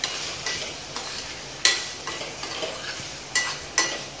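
Ice apple curry frying with turmeric in a pan, a soft steady sizzle under repeated scraping strokes of a spoon at an irregular rhythm, close and moderately quiet.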